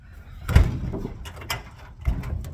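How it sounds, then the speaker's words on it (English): A door is unlocked and opened at night at a parking area, heard as a few close mechanical clunks and rattles, the loudest near the start and another toward the end, with no talking. "Helps if you unlock the door first."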